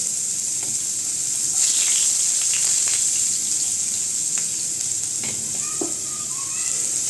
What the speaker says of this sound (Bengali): এবার পেঁয়াজের টুকরোগুলোকে খুব সুন্দর করে আমাকে ভেজে নিতে হবে